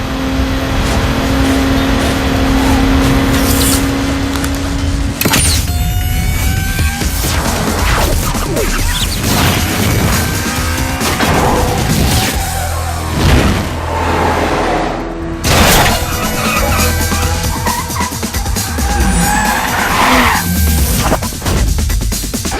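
Cars racing in EA's Need for Speed Underground video game: loud continuous engine roar with revving, passing whooshes and crash-like booms, constant and dense throughout, with no talking.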